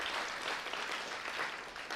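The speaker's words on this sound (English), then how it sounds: "Let's give them a round of applause." Audience applause fills a sports banquet hall: steady, dense clapping from a crowd, loud and continuous for the full stretch, with no voices standing out.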